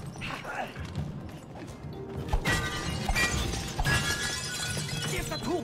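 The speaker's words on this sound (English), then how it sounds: "Smash the glass!" Glass smashing in the video game It Takes Two, a loud shattering crash over busy game music and effects, with players talking around it.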